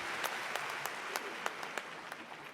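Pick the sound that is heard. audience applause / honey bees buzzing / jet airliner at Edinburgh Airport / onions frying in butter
audience applause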